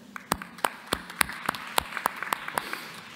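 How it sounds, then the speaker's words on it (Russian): Sparse applause from a small audience at a business tourism and hospitality plenary session in Moscow, a handful of distinct claps spaced through the moment, moderately near and fairly quiet with no talk over it. "Ваши аплодисменты."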